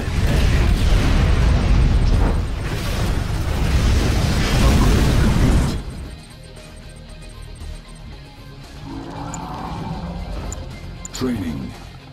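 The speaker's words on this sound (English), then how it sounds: "Nuclear missile launched" A nuclear missile detonates in the strategy game Command and Conquer Tiberium Essence: a loud, sustained roaring blast rumbles for about six seconds, then cuts to quieter battlefield ambience with a few scattered sharp effects.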